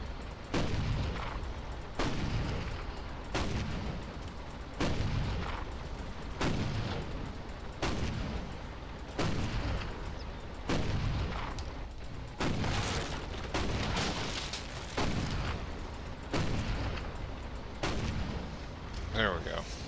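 Gunfire and artillery booms from a toy soldiers war game set at Fort Douaumont, with repeated heavy blasts landing roughly every second or two over a constant rumbling battle din for the whole stretch.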